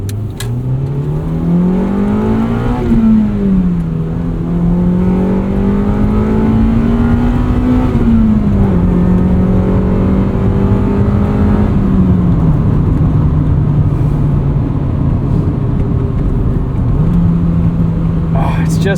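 Engine of a 1999 Honda Civic Si (EM1) on the move, climbing steadily through its high revs, dropping at shifts and rising again, loud and close from inside the car.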